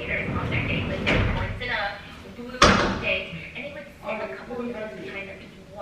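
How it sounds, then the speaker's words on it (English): A door is shut with a single sharp thud partway through, close by, while someone talks before and after it in a room during a hair-crimping session. "Let me close the door."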